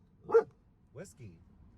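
Dogs in a car, one of three riding along, give a few short barks and yips: a loud burst near the start, then two softer ones a moment later, close by in a quiet interior.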